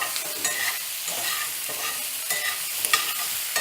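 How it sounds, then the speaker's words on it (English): Baby potatoes coated in butter sizzle in a cast iron skillet over medium-high heat, with a steady hiss broken by repeated scraping stirs. "once your potatoes are in there with the butter, you just want to stir everything around a little bit to coat"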